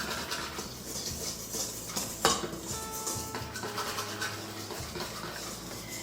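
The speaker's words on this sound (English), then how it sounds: "stir it all together, get it well combined, all the flours and the salt, in this separate bowl" Flours and salt being stirred together in a metal bowl, with a soft continuous scraping and light metallic clinks from the utensil and one sharper knock partway through.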